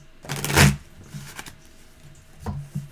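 A deck of tarot cards is shuffled nearby in a few quick riffling bursts, the loudest early and two shorter ones near the end, with quiet gaps between.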